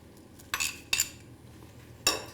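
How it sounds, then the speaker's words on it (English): A spoon clinks sharply against a pot three times while flaked almonds are stirred through a hot sugar and cream mixture, each metallic tap bright and close with quiet pauses between. "Stir those through the mixture"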